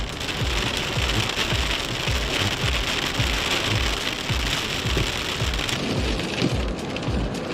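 Heavy rain pounds steadily during a January storm chase, a dense, loud roar of drops with repeated low thumps beneath it and no voices.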